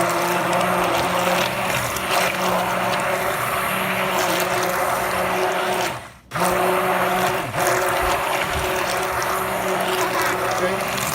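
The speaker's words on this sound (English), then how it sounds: "We're going to use an electric mixer." An electric mixer beats flan mixture of eggs with a steady, loud whirring drone, briefly stopping and starting again midway, with faint voices underneath.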